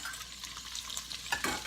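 Ground beef sizzling in a hot pan for a chili dog casserole, a steady frying crackle with a spoon scraping and stirring through it, growing louder and busier near the end.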